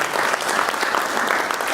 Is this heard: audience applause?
yes